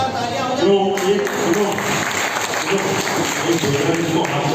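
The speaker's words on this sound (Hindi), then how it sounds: "जोरदार तालियां हो जो जाए।" Audience applause at a children's festival event, a dense continuous wash of clapping throughout with voices and music-like tones mixed underneath.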